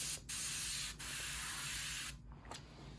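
Airbrush spraying darker colour paint in short bursts: a hissing jet of air that cuts off briefly twice, runs steadily, then stops and sputters near the end, close up and with no talking.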